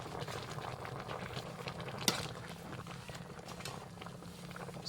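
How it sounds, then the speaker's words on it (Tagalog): A pot of chicken soup boils at a steady bubbling simmer, a dense continuous patter of small bursts heard close and fairly quiet, with one brief sharp clink midway. "kumulo na"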